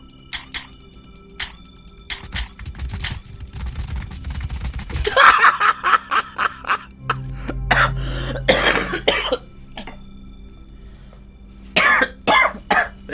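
Several sharp coughs and throat-clearing bursts in a video game come in clusters, loud and close, with quiet gaps and faint background noise between them.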